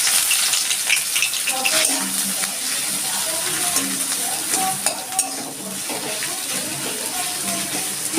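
Chopped onion frying in oil with white cumin, a steady sizzle with occasional stirring clatter in the pan, close up and continuous.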